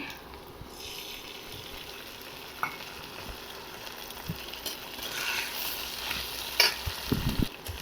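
Green chili, ginger and cumin sizzle as they are sautéed in a pan with raw green plantain. Steady frying crackle runs throughout, broken by occasional scraping stirs and clatters that grow busier toward the end.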